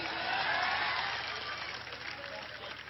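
Crowd applause breaks out at a lively political speech rally, a dense, loud wash of clapping that peaks early and then eases slightly while continuing through to the end.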